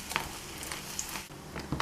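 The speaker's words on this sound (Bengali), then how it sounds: "আমি এক এক করে পাউরুটিগুলো ভেজে নিচ্ছি" Slices of bread frying one at a time in hot ghee in a home kitchen, giving a soft steady sizzle with a few light pops and scrapes, heard close and without talk.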